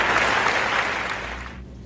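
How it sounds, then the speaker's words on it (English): Loud, dense audience applause at a TEDx-style talk fills the moment, steady at first and then tapering slightly toward the end. "The applause is ridiculously loud, and then it goes back down."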